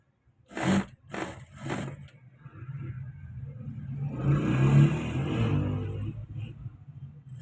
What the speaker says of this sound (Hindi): और अब हमारे जो फ्रंट हिस्सा है उस पर सिलाई लग रही है।